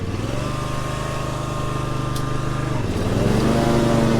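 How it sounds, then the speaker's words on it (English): A Husqvarna R316 TSX AWD riding lawnmower cutting grass with its blades engaged, a loud steady engine drone with a strong hum that dips briefly and then rises to a higher, heavier pitch. "now we're cutting grass"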